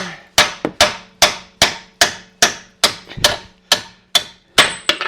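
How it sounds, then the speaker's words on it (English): A hammer taps bolts out of a Cadillac SRX front strut: a rapid series of about a dozen sharp metallic strikes in a steady rhythm, close and loud, with no talk. "Now I gotta tap those babies out."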